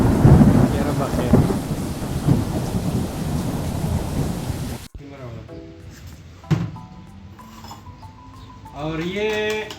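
Heavy rain pours with a deep rumble of thunder for several seconds, then the scene shifts to quieter rain beneath clattering sounds and people talking.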